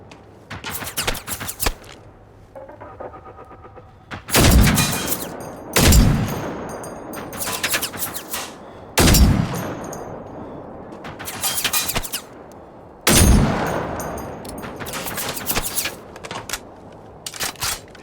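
Gunfire in Generation Zero, set in 1980s Sweden, comes as several loud, sharp bursts and single cracks spaced a few seconds apart, each with a ringing decay, close and dominant with no talk.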